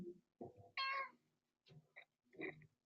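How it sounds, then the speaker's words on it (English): A cat meows several times in short, clear calls with brief pauses between, close and moderately loud, nobody speaking, in the video game 60 Seconds. "I heard a meow"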